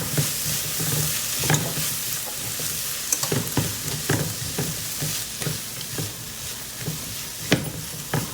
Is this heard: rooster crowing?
no